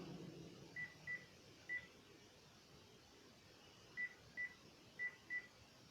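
A telephone is dialed, giving short paired and single touch-tone beeps, faint and evenly spaced, against a quiet room hum with no talking.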